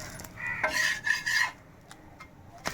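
A moong dal millet dosa being turned over on a hot pan, heard as a short scraping rub of the spatula across the surface for about a second, then quiet with a few faint clicks.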